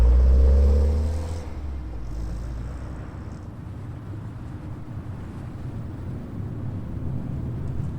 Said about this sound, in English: he starts the car and drives off slowly